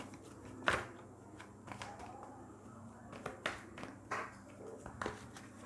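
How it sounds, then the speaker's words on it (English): Tarot cards are shuffled by hand in a quiet room, giving a series of soft, irregular riffling and tapping bursts of varying strength, close and fairly faint. "Let me shuffle the cards for you for your professional life"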